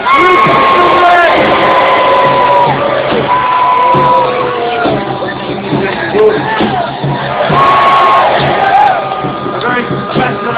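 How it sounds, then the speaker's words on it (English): A crowd at a gladiator games event in London's Guildhall roars and cheers loudly for the gladiator Rufa the Red, with whoops and shouts sustained throughout and an announcer's voice carrying over the noise. "Can I have a big cheer, please, for Rufa?"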